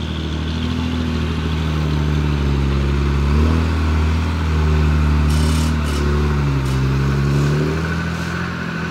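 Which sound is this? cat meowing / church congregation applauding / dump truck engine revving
dump truck engine revving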